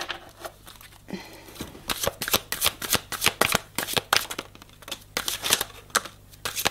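Tarot cards shuffled by hand before a reading, a close series of crisp riffling bursts in a fairly regular rhythm after a quieter start, with no talk.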